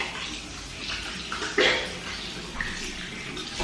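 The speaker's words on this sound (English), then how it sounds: "I'm gonna rinse now." Tap water runs steadily in a bathroom sink while a face is rinsed of cleanser, a continuous close splashing wash with a brief louder splash midway and no talking.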